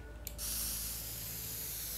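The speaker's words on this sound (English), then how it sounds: "Spray can." A spray can in the video game Teardown, starting with a short burst and then settling into a loud, continuous hiss that runs steadily to the end over a low background hum, with no talking.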